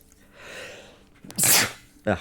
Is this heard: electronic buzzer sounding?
no